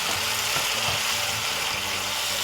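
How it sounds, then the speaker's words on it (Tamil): Tomatoes fry with onions and green chilli for a Tamil fish curry, giving a loud, dense, unbroken sizzle close by with faint low stirring scrapes beneath. "இப்போ தக்காளி பழத்தை இதுக்குள்ளே போட்டு நல்லா வதக்குறேன்"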